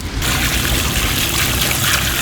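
Fish from a dam being rinsed again in water before it goes into a spicy fish curry: a steady, close splashing and trickling wash of water runs continuously without a break.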